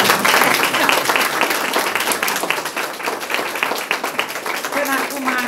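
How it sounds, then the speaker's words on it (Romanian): Sustained applause from a crowd at a painting exhibition in Târgu Ocna, steady clapping with distinct individual claps, and a voice speaking over it near the end. "Mai primim aplauze."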